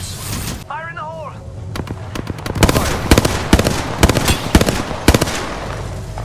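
In Apex Legends, a thrown grenade bursts amid a loud stretch of sharp game gunfire cracks and blasts, with a short in-game voice line near the start over the dense combat noise.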